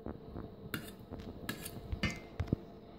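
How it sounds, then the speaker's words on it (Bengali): A knife cuts two boiled eggs into small cubes on a board, giving a run of soft, close taps and clicks at an uneven pace, with no talking. "এখানে আমি চাকু দিয়ে সুন্দর করে কেটে নিচ্ছি, সুন্দর করে কিউব করে এভাবে কেটে নিচ্ছি"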